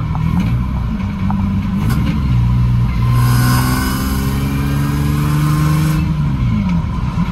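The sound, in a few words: Lexus SC300 engine revving with exhaust leak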